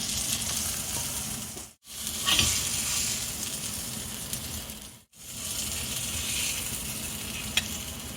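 Marinated fish frying in a pan of hot oil, a steady close sizzle with brief cuts and faint stirring or turning sounds, no talking.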